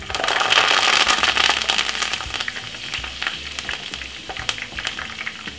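Pepper and fresh thyme dropped into hot oil for Jamaican escovitch fried fish: a loud, dense sizzle full of rapid crackles and spits, strongest at first and then settling to a steady fry.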